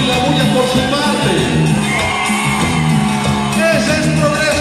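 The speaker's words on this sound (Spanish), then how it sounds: "los gritos, los silbidos, los aplausos y la bulla por su parte." Concert crowd at a show in Progreso de Obregón, Hidalgo, shouting, whistling and cheering loudly and steadily throughout, a dense wall of voices and noise over the music.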